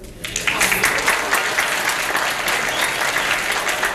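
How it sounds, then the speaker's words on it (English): A studio audience on a 1973 game show claps loudly and continuously, a dense wash of applause swelling quickly and holding steady for several seconds. "I see your husband's applauding."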